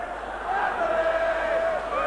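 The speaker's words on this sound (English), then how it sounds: "Crowd excited, chanting away" Supporters at a Wigan versus St Helens rugby league derby chant together, a sustained swell of massed voices with one drawn-out chanted line rising above a steady crowd roar.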